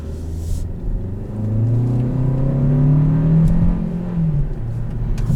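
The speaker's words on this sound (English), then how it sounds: "Really good sound. It's really a throaty sound." A 2020 Hyundai Sonata's deep, throaty engine rumbles and revs up, swelling in loudness then easing back, heard close with no voices.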